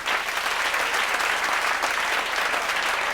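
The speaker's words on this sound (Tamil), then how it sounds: "அன்னபாரதி அவர்களுக்கு ஒரு பெரிய கரகோஷம் கொடுங்க வாங்க." Dense, steady applause rolls from a large crowd at a Pongal debate show in Dindigul and stays at an even level throughout.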